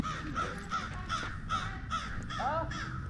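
Crows caw repeatedly at a yard sale, about eight harsh calls in a steady rhythm, fairly close and loud over faint outdoor background noise.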